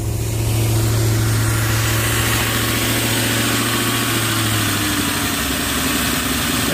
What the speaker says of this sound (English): it's idling a little fast